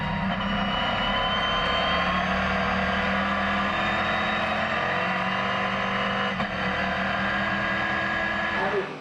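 NASCAR Whelen Euro Series racing car engines at Monza roar loudly and continuously, a droning high-pitched whine that swells as cars pass close by.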